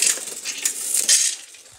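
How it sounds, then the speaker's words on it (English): A bullet feeder on an ammo reloading press runs close by, giving a quick, bright metallic rattle of small clinks and chinks that stays steady for under two seconds. "fire up the bullet feeder"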